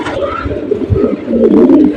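Pigeons coo in low, throaty, rolling calls that swell slightly toward the end, close by and fairly loud.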